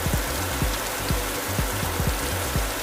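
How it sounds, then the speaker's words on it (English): Heavy rain pounding a car during a rain and hail storm on the road toward Stillwater, Oklahoma, a dense, loud hiss of downpour across the body with regular low thumps, no talking. "Oh, it's coming down. Rain cats and dogs out there."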